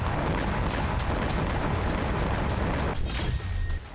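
Loud, continuous rumbling blasts and booming explosions from drone strikes fill the whole stretch, dense and heavy with no pauses.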